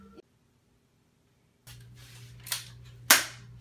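Two quick gunshots, the first softer and the second a loud, sharp crack, ringing out after a moment of near silence over a low hum.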